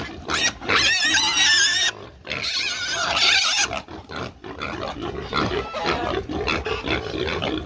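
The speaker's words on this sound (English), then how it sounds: "This is the second pig being moved." Loud pig squeals and grunts up close as a pig is moved on a farm, with harsh shrieking bursts early on, then continued grunting amid scuffling and commotion.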